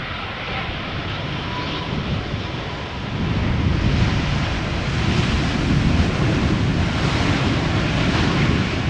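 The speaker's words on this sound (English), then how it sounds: "A little bit of reversers, but not the loudest of landings." A United Airlines Boeing 787-8 arriving from Chicago lands at Schiphol, producing a broad, loud roar that swells midway as the thrust reversers engage, with wind buffeting the microphone and no voices.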